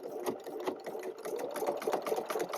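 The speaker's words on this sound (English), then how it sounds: "I'm going to put my foot down, and we're just going to sew this through." Close by, a sewing machine runs steadily as it stitches through pieced fabric for half square triangles, a rapid rhythmic whirring clatter with slight surges in pace, heard on its own without speech.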